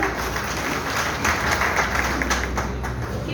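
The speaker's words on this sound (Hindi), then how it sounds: "मैं चाहूंगी एक बार तालियों से सम्मानित करें" A steady wash of clapping from an Aam Aadmi Party gathering in Ladwa honouring the party leadership, continuous and fairly even throughout with a low background murmur.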